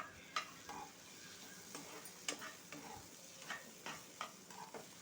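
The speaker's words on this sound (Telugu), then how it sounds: "ఉల్లిపాయలు కూడా కొద్దిగా మెత్తబడేంత వరకు వేయించుకోవాలి." Onion and tomato frying in a pan, quietly crackling with a low sizzle and scattered light scrapes and ticks of stirring, fairly faint throughout.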